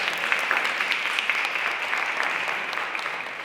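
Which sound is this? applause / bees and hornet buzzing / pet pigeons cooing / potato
applause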